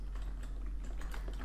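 Keystrokes on a computer keyboard while writing an Excel Power Query formula, a quiet, steady patter of key clicks with no voice over the low background hum.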